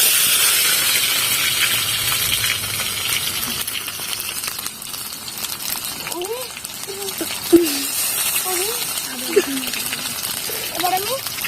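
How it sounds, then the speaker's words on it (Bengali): Onion paste drops into hot mustard oil in a wok for chicken curry, giving a loud, steady hissing sizzle throughout, with a faint voice murmuring beneath it in the second half. "এবার আমি কড়াই সর্ষের তেলটা দিয়ে দেব। প্রথমে আমি পেঁয়াজ বাটাটা দিয়ে দিচ্ছি।"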